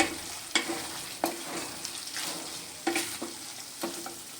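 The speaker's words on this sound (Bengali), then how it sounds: "আরও একবার আমি নেড়ে চেড়ে নেব এইভাবে শুকনো শুকনো করে মশলা কষিয়ে নিলে" Spice masala for a dry fish dish being stirred and fried in a pan: a soft continuous sizzle broken by periodic scraping strokes of a spatula, close up, with no voices.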